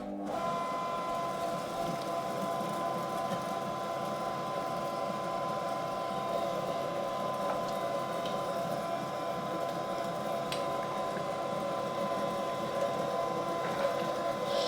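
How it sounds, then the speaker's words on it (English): Meat grinder grinding pork belly for white bratwurst, heard as a steady, continuous motor whir with a constant hum and no breaks, close and moderately loud. "I will grind now the pork belly also through this blade"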